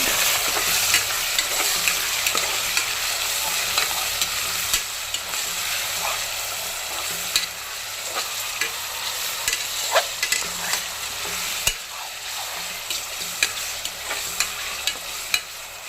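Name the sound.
mutton frying with salt in a pan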